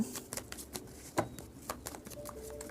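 Tarot cards shuffled and flicked at close range, a quiet run of soft papery snaps and riffles in an irregular rhythm, with no talking.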